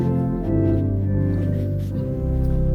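Pipe organ flute stops sounding together in a short, loud passage of held notes with a shifting bass line, rich and resonant in the room.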